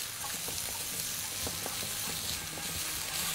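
Eggs sizzle and fry in a hot pan while being stirred quickly, a dense continuous crackle with soft scraping strokes, close and steady throughout.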